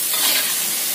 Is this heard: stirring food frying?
yes